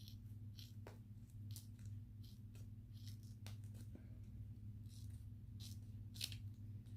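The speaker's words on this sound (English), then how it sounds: "And these I'm going to cut apart, at least the strips." Scissors snip apart diamond painting strips in a quiet room, with a series of soft, sharp cuts at irregular intervals over a low background hum.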